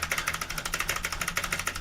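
The player character in the stealth game Thief makes a repeated mantling noise, a rapid rhythmic series of short breathy bursts, fairly loud and steady throughout.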